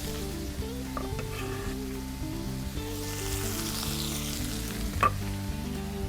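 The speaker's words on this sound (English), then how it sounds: "Oh, hear that sizzle. Y'all know how I love that sizzle." Steady, loud sizzling of onions frying in a hot pan, with occasional stirring clicks and scrapes, close by and without speech.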